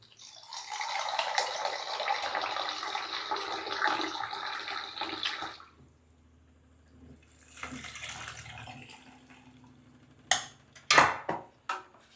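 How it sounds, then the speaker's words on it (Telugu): Water poured into a pot of red lentil rasam with tomato, tamarind, chili and onion: a continuous splashing pour for about five seconds, then quieter trickling and a few sharp clinks of a vessel. "దీంట్లో ఎంత వాటర్ కావాలో అంత వాటర్ యాడ్ చేసుకుందాం"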